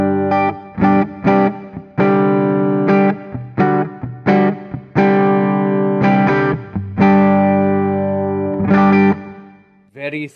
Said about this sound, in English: Very thick and dark neck pickup, if you play some lead lines on that.